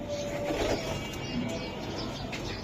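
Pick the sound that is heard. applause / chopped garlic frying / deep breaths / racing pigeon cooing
racing pigeon cooing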